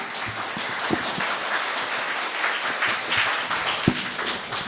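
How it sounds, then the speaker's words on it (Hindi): Audience applause at an anti-drug awareness training session in Kannur, heard as a steady wash of many hands clapping, with scattered sharper claps, moderately loud and without talk. "तालियां।"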